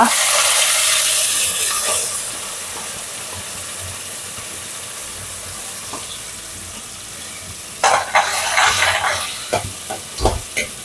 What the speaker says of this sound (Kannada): ಈಗ ಈ ಮಸಾಲ ಒಳ್ಳೆ ಫ್ರೈ ಆಗಬೇಕು.